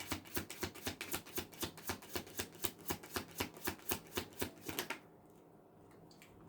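Tarot cards are shuffled in a quick, rhythmic riffle of about twenty crisp, evenly spaced flicks, close and fairly quiet, before falling to near silence.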